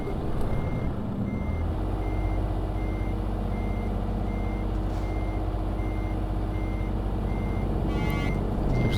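Steady, evenly spaced reversing beeps from a truck backing up in Euro Truck Simulator 2, sounding continuously over a constant low engine rumble.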